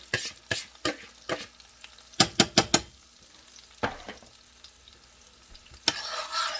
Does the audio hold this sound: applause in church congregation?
no